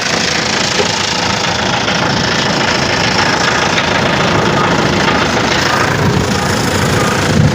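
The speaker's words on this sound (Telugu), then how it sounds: "ఇంజిన్ వచ్చేసి ఇప్పుడు స్టార్టింగ్లో అయితే ఉంది" A Mahindra Xylo D4 diesel engine idles with a steady, loud, close rumble and continuous knocking throb, unbroken for the whole stretch.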